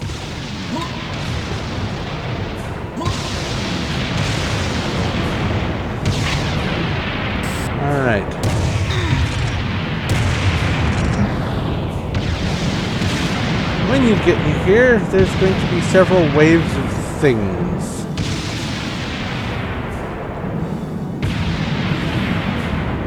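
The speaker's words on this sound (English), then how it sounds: "So they are mobs that actually shoot cannons at you, so watch out for them." Cannon-firing enemies in the video game Serious Sam HD, inside the Grand Cathedral level, let off repeated booming shots and explosions over a steady backdrop of game noise, while someone talks over the action throughout.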